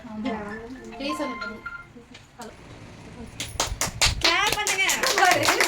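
People clap their hands at a family gathering, a short burst of scattered applause that follows chatter and speech from adults and children.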